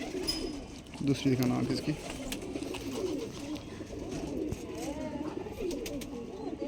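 A prized breeder pigeon coos softly in a loft, its low rolling calls sitting beneath someone talking close by.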